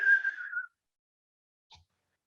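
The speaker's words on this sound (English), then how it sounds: "And then there's the shaman whistle, which brings things in" A person does a shaman whistle, a single steady whistled tone lasting over half a second that fades out, followed by silence and one faint brief click.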